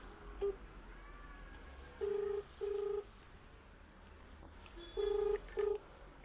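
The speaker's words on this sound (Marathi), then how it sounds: "आता आपण त्या लाईनमॅनला फोन लावूया." Several touch-tone keypresses sound as a phone number is dialed to call an electricity lineman, short steady beeps in separated groups over a quiet room.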